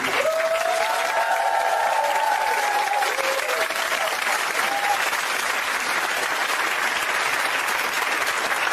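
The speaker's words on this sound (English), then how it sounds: "Give him a round of applause." A large audience claps steadily in dense, continuous applause, with a few cheers and whoops near the start.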